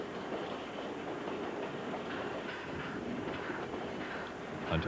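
Uncoupled railroad cars roll steadily past over the hump at Alyth yard with a continuous rumble and faint clatter of wheels on track, fairly close and without talk.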